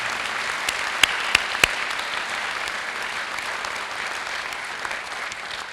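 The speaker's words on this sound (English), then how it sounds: "Let's give them another big, big round of applause." Steady applause from a crowd fills the whole stretch, with a few sharper individual claps popping out near the start.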